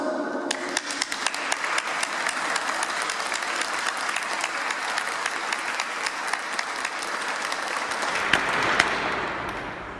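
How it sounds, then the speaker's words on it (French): A church congregation claps together at a Pentecost Mass, a steady, dense round of applause with sharp individual claps standing out, holding for about eight seconds before tapering off. "nous nous applaudissons"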